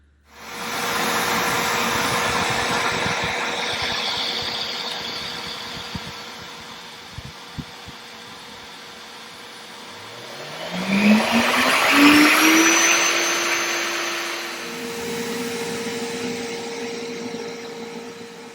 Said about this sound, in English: I'm going to go over and turn the vacuum on, get this router in motion